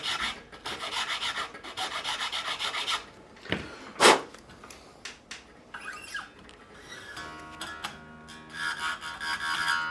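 A replacement nut on a 2008 Gibson Les Paul Custom is filed in short bursts of close, raspy strokes. The filing pauses between runs, and a sharp scrape or squeak cuts in partway through.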